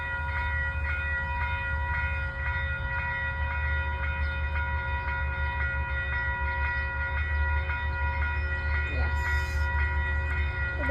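A Conrail freight train rolls past close by with a continuous heavy rumble, rhythmic wheel clatter and squealing tonal hum, loud and steady throughout.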